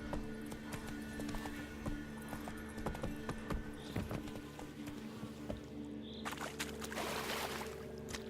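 Roach, Geralt's horse in The Witcher 3: Wild Hunt, gallops with a steady, rhythmic clip-clop of hooves, close and continuous, over a low ambient game soundscape.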